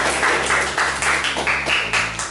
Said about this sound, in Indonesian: kita berikan aplaus untuk Mbak Aurel